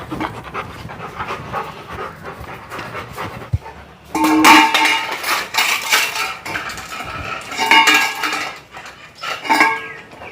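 A Labrador fetches its metal food bowl from a bathroom, with close, heavy panting and bursts of clattering, scraping metal as the bowl knocks and drags over the floor.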